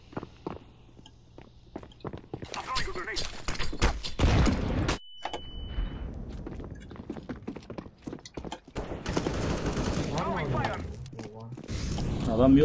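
Counter-Strike gunfire amid rapid game sound effects: bursts of sharp shots and clatter that rise and fall, with excited voices talking over the action.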